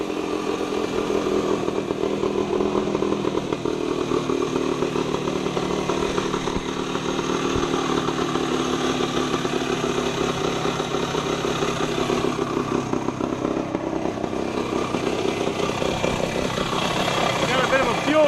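A 1975 Yamaha DT125B motorcycle runs loudly and steadily nearby, its engine note rough and continuous throughout with slight rises and falls, and a person talking beneath it.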